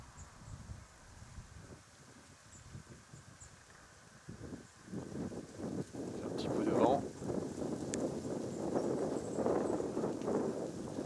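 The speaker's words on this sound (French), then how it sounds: "Un petit peu de vent." Wind rushes and rumbles against the microphone near vineyards in winter, growing stronger and gustier in the second half, with some voices underneath.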